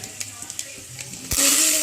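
Tempering of spices (popu) sizzling in a pan, starting as light crackles and stirring clinks, then bursting into a loud, steady sizzle near the end, with a voice faintly present.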